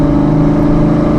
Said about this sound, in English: it doesn't get a whole lot better of a sound than some flows behind a 5-liter